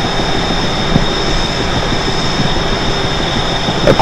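A Northeast Corridor passenger train pushed from behind by its locomotive, giving a steady, loud rail rumble and droning engine hum with no talk.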